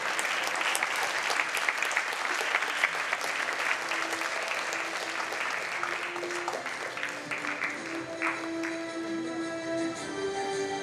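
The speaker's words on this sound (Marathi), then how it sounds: "आपण टाळ्या वाजवूया." An audience at a stage performance applauds steadily and loudly throughout, the dense clapping thinning slightly toward the end, with no talk over it.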